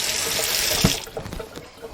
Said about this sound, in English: I'm going to run some cold water on my pasta